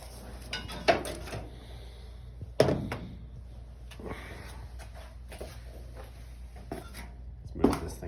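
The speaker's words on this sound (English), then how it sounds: "Let me go and open up the hood." Hood of a 1941 slat grill Jeep being opened, a few sharp metallic clunks and thumps spread over several seconds amid quieter handling rattles in a garage-like space.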